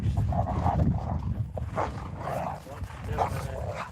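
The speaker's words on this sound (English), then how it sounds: "Dogs." Dogs bark outdoors in the cold during an oil change, several rough barks of moderate loudness over a heavy low rumble of wind or engine noise.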